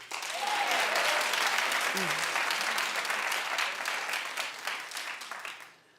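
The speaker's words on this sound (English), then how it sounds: "Clap if you think that this is Angelina behind the scenes" Loud studio audience applause fills the room continuously, dense and even, with brief voices and cheers mixed in before it tapers off at the end.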